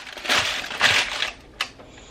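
Parchment paper crumpled by hand for lining a loaf pan, making two loud crinkling bursts followed by a brief sharp crackle, close and clear with no talking.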